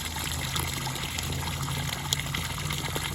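Steady water trickles and gushes through a long hose of a homemade pool heater, a continuous, even flow with small splashy bursts, fairly close and moderately quiet.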